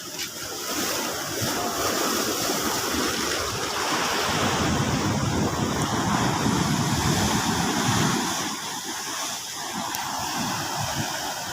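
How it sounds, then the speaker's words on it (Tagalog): Rough sea waves whipped up by Typhoon Kristine crash against a seawall, making a continuous loud roar of surf with steady wind buffeting the microphone and no voices. "Nagagalit ang alon mahampas din sa seawall."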